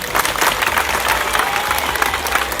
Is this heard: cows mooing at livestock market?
no